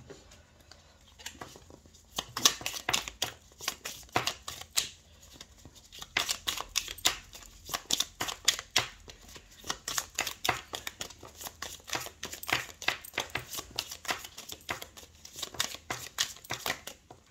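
Lenormand cards being shuffled for a reading, giving rapid bursts of crisp papery riffling and flicking in uneven clusters, fairly close and quiet, with no speech over it.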